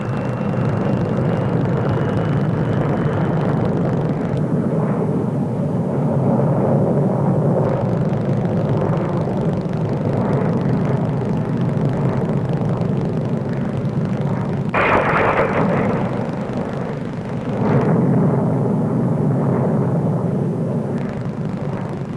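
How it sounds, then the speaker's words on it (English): A Saunders Roe SR-53 with an Armstrong Siddeley Viper jet and de Havilland Spectre rocket taking off at a 1950s Farnborough air show, a steady loud roaring engine drone with a brief rising surge partway through. "Now the new Saunders Roe SR-53 with Armstrong Siddeley Viper and de Havilland Spectre rocket mixed power unit. Taking off with the rocket going now."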